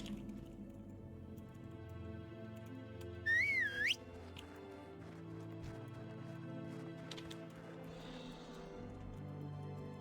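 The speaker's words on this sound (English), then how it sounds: "Whistle." A short rising-and-falling whistle sounds in World of Warcraft in the Dun Morogh dwarf starting area, clear and brief over quiet ambient game music and faint hoof clip-clops.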